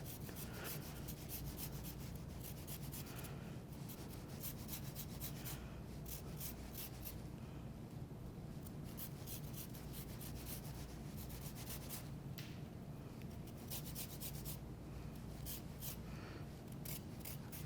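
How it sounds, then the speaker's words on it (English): A lime rubbed over a very sharp microplane zester with many tiny razor-like blades, giving a steady, continuous rasping scrape close by that runs the whole time without pauses or talk. "After you've zested the lime, a lot of the zest is collected right there"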